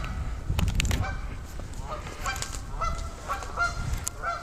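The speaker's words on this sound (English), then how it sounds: "We scared up a couple of geese." Several geese, flushed along a trail in the Pecatonica River Forest Preserve, honk in short, repeated calls, fairly close and overlapping, over a low rustling background.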